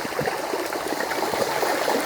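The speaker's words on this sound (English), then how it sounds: "listening to the water" Stream water on a country walk near Laroque des Albères in France flows and burbles continuously at close range, a steady rushing wash with no voices.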